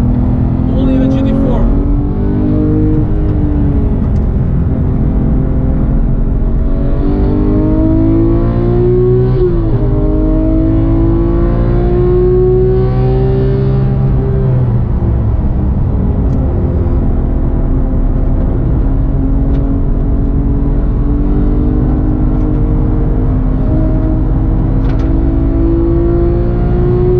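A manual Porsche GT3 engine revving loud and near on the Spa circuit, climbing through gears with rising pitch sweeps and brief dips at shifts, while people talk over the steady engine roar.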